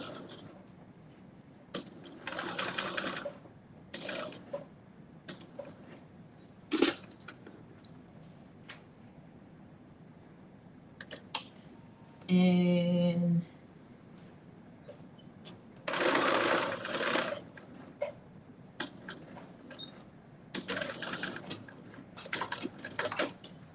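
A sewing machine runs short bursts of reinforcement stitching inside the seam allowance of a Simplicity 9825 sewing project. Several brief, close runs are separated by quiet pauses with small handling clicks.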